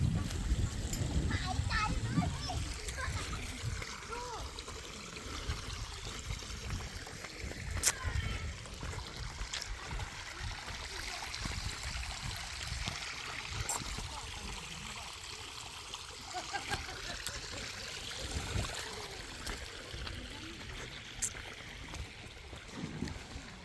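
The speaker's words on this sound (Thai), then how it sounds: "หัวน้ำตกอยู่ตรงนู้นนะ" Waterfall stream flowing over rock at Pha Luang waterfall forest park, a soft steady rushing wash heard at a distance under a voice speaking nearby.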